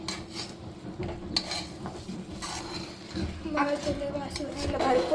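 Rice for biryani stirred in a pot at home, soft scraping and rubbing of the spoon against the metal with a faint sizzle, while someone talks over it.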